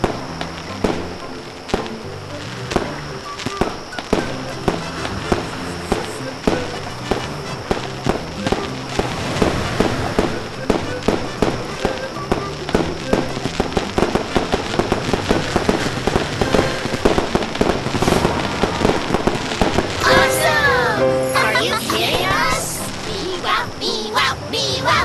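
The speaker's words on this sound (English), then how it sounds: "Let's make fireworks." Cartoon fireworks burst again and again in a children's birthday beach video game, a rapid run of loud pops and crackles that grows denser and brighter toward the end over light music.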